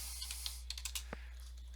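A computer keyboard is tapped in a brief, uneven burst of soft clicks at moderate distance, over a steady low electrical hum, with no one talking.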